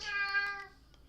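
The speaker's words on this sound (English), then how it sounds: "That's my cat." A cat gives a single short meow, close and clear, with a bright tonal cry that fades out within about a second.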